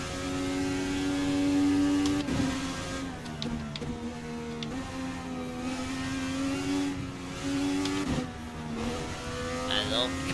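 A virtual Indycar in Assetto Corsa runs the Belle Isle street circuit, its engine a steady buzzing whine with gear shifts and throttle changes breaking the tone, while a commentator talks over it.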